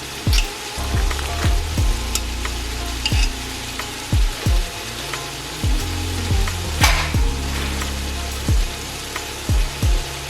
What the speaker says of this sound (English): I'm just going to stir this in so that it will allow the cream cheese to start kind of melt down